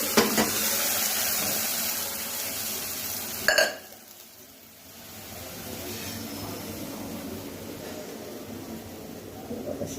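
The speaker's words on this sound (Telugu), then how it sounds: "ఇప్పుడు ముక్కలు వేస్తున్నాము. ఈ సూప్ ముక్కలతో పాటు ఈ ఉన్న నీళ్ళు కూడా వేసుకోవాలండి." Chicken pieces and water go into a hot pan for homemade chicken soup, giving a soft sizzle and watery splash, a brief clattering burst midway, then a quieter steady simmering hiss.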